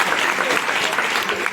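An audience at a live comedy show breaks into steady applause, a short stretch of dense clapping with voices mixed into the crowd noise.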